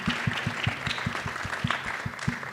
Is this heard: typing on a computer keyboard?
no